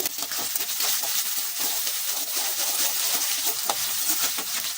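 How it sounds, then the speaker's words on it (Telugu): Onions, small shallots and curry leaves sizzle in hot oil for an Andhra-style prawn fry, a dense steady frying hiss carrying light scrapes of stirring, close and continuous with no talking. "అది బాగా వేడైన తర్వాత ఉల్లిపాయలు, చిన్న ఉల్లిపాయలు సన్నగా తరుక్కొని 3 ఉల్లిపాయలు వేసుకున్నాను"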